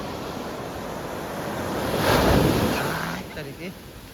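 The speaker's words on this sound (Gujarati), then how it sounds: "આમ જો મોજા કેવા મિત્રો" Ocean waves at the shore at night, a steady wash of surf that swells into a louder breaking surge midway before easing back, with wind buffeting the microphone.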